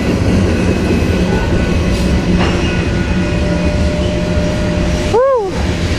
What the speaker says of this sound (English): Woo, there's train.